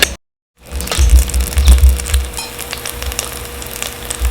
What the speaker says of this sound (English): Then add in your tomato paste, and this is about 4 tablespoons of tomato paste.